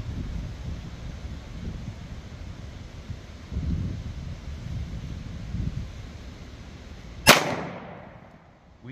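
An M&P pistol fires a 357 Sig round, Hornady Critical Duty 135 grain, at an outdoor range: after several seconds of wind noise comes a single sharp, loud, nearby shot with a short ringing decay.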